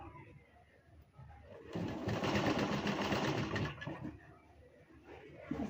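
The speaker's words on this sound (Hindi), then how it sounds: "उसी निशान को पकड़ते हुए दोनों तरफ से सिलेंगे इसे" A sewing machine stitches a coloured suit along a marked centre line, running steadily for a few seconds at close range after a quieter start.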